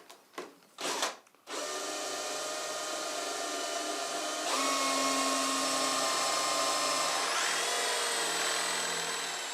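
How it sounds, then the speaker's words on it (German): After a few short bursts, a power drill bores steadily into the smooth surface of a wooden surfboard, a loud continuous whine that shifts pitch midway and keeps running without speech. "Vor dem letzten Schliff bohrt Jonas Buchholz die glatte Oberfläche nochmal auf"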